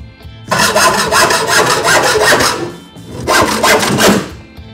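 Rapid back-and-forth hand sawing through a metal L bracket for a garage door opener installation, two bursts of rasping strokes separated by a short pause, close and loud.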